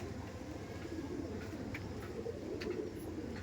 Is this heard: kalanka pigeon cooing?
yes